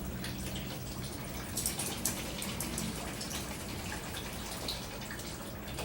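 Water runs steadily from a tap over a small soapy towel being rinsed, making a continuous splashing hiss with a few brief drips and gurgles, moderately near.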